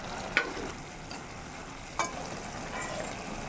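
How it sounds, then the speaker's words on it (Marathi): Spiny gourd (kantola) vegetable cooking in a pan, a soft steady sizzle with a couple of brief stirring clinks. "करटुल्याची भाजी शिजत आहे"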